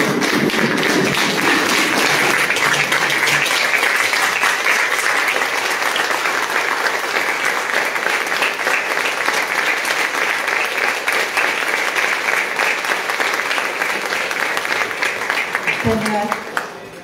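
An audience rises in a standing ovation after a song, loud sustained applause rolling on without pause for many seconds before fading out with a final bump at the end.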